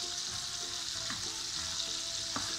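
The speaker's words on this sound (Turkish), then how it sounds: "Bunu kavuracağım." Boiled beef sautéing in butter in a pan gives a steady, close, even sizzle and crackle, with a few soft stirring scrapes over it.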